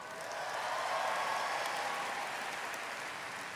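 Applause from an audience at the 72nd Miss Universe preliminary competition, honouring a selection committee member, a steady wash of many clapping hands held at an even level for the whole stretch.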